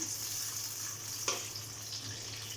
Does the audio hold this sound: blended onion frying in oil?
yes